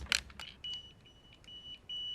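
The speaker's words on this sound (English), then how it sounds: "You locate it with the beeping." A short electronic beep, a pause, then several more steady high-pitched tones, fairly quiet and close, with no voices.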